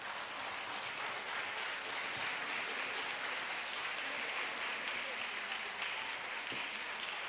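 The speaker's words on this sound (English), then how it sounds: "You clap for them, students." Students in a hall at a school science and maths quiz competition applaud steadily for several seconds, a dense, even wash of clapping from a crowd.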